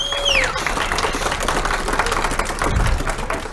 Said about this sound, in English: you're going to have to applaud very loud